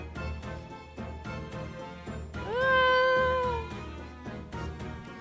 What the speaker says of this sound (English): Very cute cat.